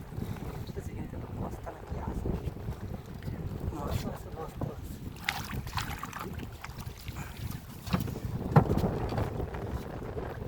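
Wind buffets a small fishing boat on a river in the Sundarbans, a continuous rumbling gusty roar with occasional knocks, while people talk nearby.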